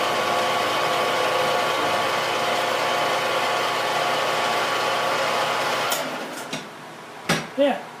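Milling machine cutting a part with coolant: a steady, loud mechanical whir for about six seconds, then it winds down into a few scattered clunks and knocks.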